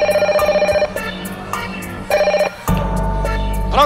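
Telephone ringing on an Italian TV quiz show during a call-home segment, a series of repeated electronic rings in short bursts, loud and clear, followed by a low hum as the line connects.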